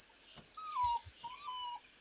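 A small puppy gives a few soft, high whimpers in close succession, thin and plaintive, with faint low thumps beneath and no talking.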